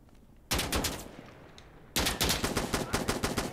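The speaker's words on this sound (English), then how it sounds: "I hear guns, gunshots, bad gunshots." Two bursts of rapid gunfire in the video game Insurgency: Sandstorm, loud and sharp, the second a longer automatic volley of closely spaced shots.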